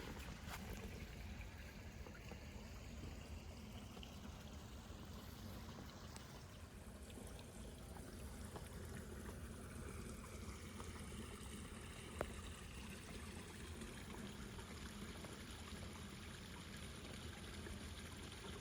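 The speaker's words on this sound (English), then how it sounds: "It's not every day you actually get to hear a waterfall in the state of Florida." Steady rushing and trickling water from a small waterfall in a Florida nature preserve, a continuous broadband wash heard up close, with a brief sharp tap partway through and no talking.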